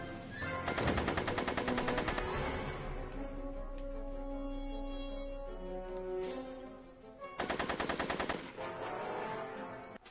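Gunfire from the video game Back to the Future: The Game, two loud rapid machine-gun bursts, the first around a second and a half long and the second a bit shorter, separated by a stretch of quieter game music.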